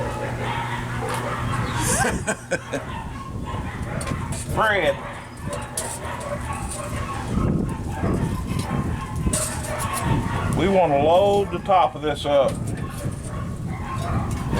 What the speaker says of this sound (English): Sorry about the dog fight.